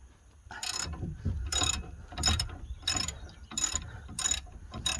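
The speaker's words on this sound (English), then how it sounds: "let's just see if I've got a really long ratchet socket here" A long ratchet socket wrench works loose a seized rear shock absorber bolt on a Vauxhall Vivaro / Renault Trafic van, giving six loud, evenly spaced bursts of ratcheting clicks about once every 0.7 seconds, with grinding mechanical noise between strokes.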